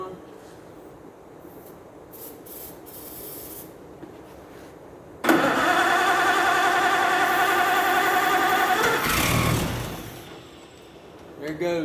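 An old Oliver 88 tractor engine, primed with ether after sitting for years, cranks and catches: a loud, steady rumbling run bursts in suddenly and holds for several seconds before easing off, with faint handling noise before it.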